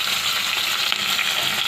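Onions and green chillies fry in a pan, producing a steady, fairly loud crackling sizzle with occasional stirring scrapes and no voices.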